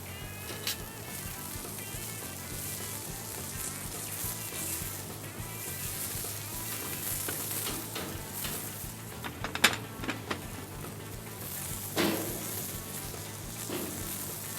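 Corn roasting on a grill, a steady faint sizzle and crackle with a few sharper pops, close by and free of talk.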